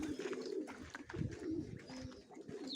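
Soft, throaty cooing from pigeons nearby, a repeated low burbling that rises and falls, quiet and continuous with no other sounds.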